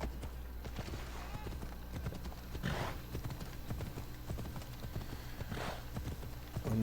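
A horse ridden across open terrain in Assassin's Creed Odyssey trots with a steady, rhythmic clip-clop of hooves that runs continuously at moderate volume, with a couple of louder hoof strikes standing out.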